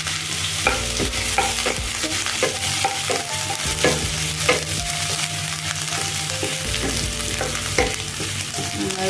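Crushed ginger and garlic stirred in a hot frying pan for a paneer veggie stir fry, with a steady close sizzle broken by repeated spatula scrapes and clinks against the pan and no voices.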